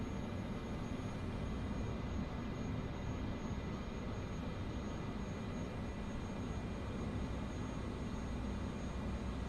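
A steady, droning engine hum from a Cessna Caravan 208B in Microsoft Flight Simulator, a constant low turboprop tone with a faint high whine, unchanging and alone throughout.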